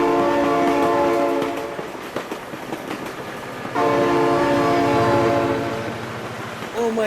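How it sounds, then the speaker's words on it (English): A loud train horn blares in the BeamNG driving game, sounding in two long sustained blasts over the rumble of a passing train. "Oh my god, train!"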